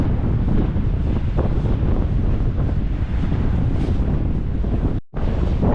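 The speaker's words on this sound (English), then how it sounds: "the amazing but very, very windy view out across the sea" Strong wind buffets the microphone in a continuous roaring rumble on the coast of Tromsø, Norway, with the low wash of sea faintly beneath, briefly dropping out near the end.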